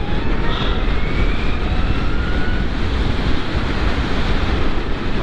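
A Zero SR/F electric motorcycle accelerates hard, heard as a loud continuous rush of wind and road roar with a faint rising electric whine, no speech over it.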